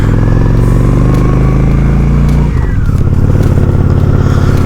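A Honda Shadow 750 ACE motorcycle engine rumbles loud and close, its deep, steady idle shifting to a lower, rougher throb partway through.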